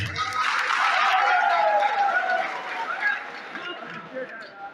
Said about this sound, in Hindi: तालियां बजाई उनके लिए